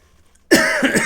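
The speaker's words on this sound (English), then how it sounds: "Sorry for the coughing." A single close, loud burst of coughing and throat clearing breaks a brief near-silence, lasting about half a second.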